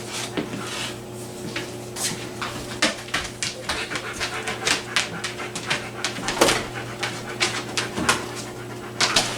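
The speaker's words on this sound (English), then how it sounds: "My dog's in the video. My dog, he wanting something." A dog pants rapidly and whimpers close by in a home kitchen, the breathy rhythm running throughout with occasional clinks of dishes in the background.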